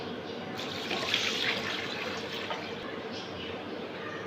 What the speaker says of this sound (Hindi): इसके साथ ही हम इसमें पानी ऐड कर देंगे